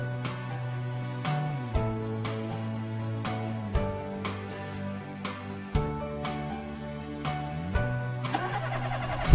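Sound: cartoon amphibious car engine starting

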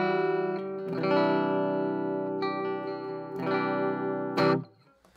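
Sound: electric guitar through clean amp channel

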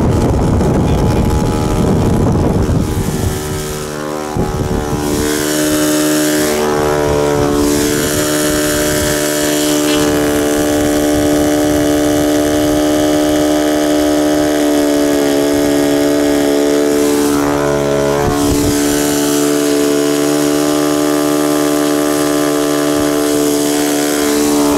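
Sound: RC P-51B Mustang model plane with Saito FA 62B glow engine

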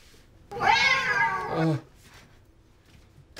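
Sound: cat meowing

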